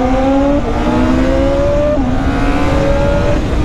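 A repaired Honda CBR motorcycle engine roars loudly and close up at high revs while riding, its pitch dipping briefly at a gear change before climbing again, with rushing wind.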